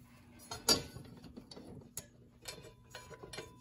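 A wrench tightens the arbor nut on a Ryobi table saw blade, giving a few close metallic clicks and clanks, one sharper clank near the start, then lighter scattered taps.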